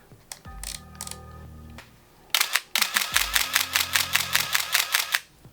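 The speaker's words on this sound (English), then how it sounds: "So fairly fast shutter winder in this thing." A manual Canon film camera fires with its fast shutter winder: a few single shutter clacks with whirring advance, then a rapid burst of about a dozen evenly spaced clicks at roughly four to five frames per second, close and loud.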